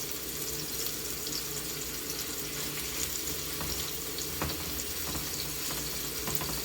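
A burger patty fries in hot oil with a dense, steady hiss and crackle that holds at an even level throughout, with no voices over it.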